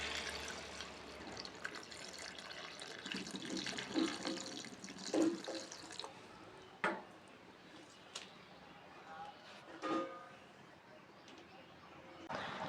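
Pre-heated water poured into a pan of vegetarian broccoli curry, a steady splashing pour that swells and fades over several seconds, with faint bubbling and soft clinks from the pan.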